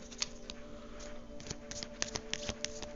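Tarot cards being shuffled by hand for a reading, quiet close-up riffles and soft taps of card edges, with a few crisper clicks in the second half and no talk.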